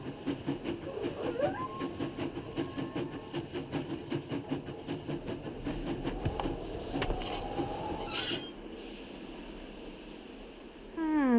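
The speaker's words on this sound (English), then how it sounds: "Sounds like the train's leaving." A train pulls out of the station in the Nancy Drew game Last Train to Blue Moon Canyon, with steady rhythmic clacking, thin whistling squeals and a burst of hissing near the end, all fairly close with no speech.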